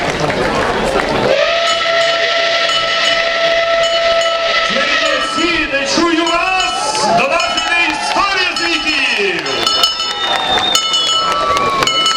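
A Soviet L-series steam locomotive, L-3535, chuffs and hisses with a sustained whistle tone, loud and close, arriving at Chernivtsi station during a celebration, with people talking and clamoring around it.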